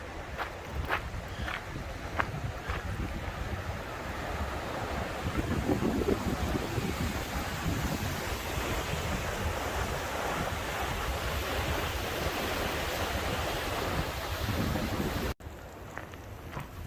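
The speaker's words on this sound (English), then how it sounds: "Oh, this faucet has been running the whole time." Water pours steadily from an outdoor faucet at a ranger residence along the Arizona Trail, a continuous broadband rush heard close and loud for most of the stretch, with wind noise mixed in and a brief drop near the end.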